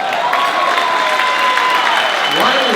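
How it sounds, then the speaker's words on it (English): A studio audience at an interview breaks into a sustained round of applause that holds steady and loud throughout, with a voice speaking over it. "Listen to this round of applause you're about to get."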